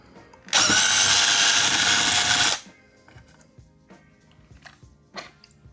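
A power drill bores a 3/16-inch hole in a loud, steady two-second whine at close range, then stops. Quiet handling noises and small clicks follow.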